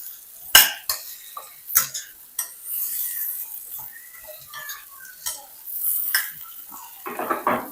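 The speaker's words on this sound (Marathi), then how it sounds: "2 मिनिटं असेच परतू द्यायचे." Stuffed brinjal fried with spice masala in a pan, a spoon scraping and clattering against the metal in irregular strokes while the food sizzles softly underneath.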